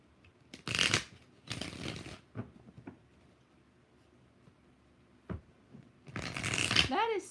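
Tarot cards are shuffled by hand in several quick riffling bursts separated by pauses, close and fairly loud, with faint clicks and handling noises in the quiet stretches between.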